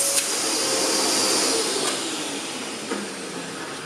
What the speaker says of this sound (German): Wieder unser Freund der Staubsauger im Einsatz.